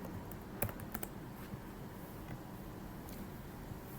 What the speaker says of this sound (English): So, we are gonna type roads.